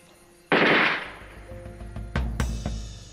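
A single sharp gunshot cracks out close and loud, followed by a couple of fainter shots and knocks, in a tense wartime scene during the Algerian war.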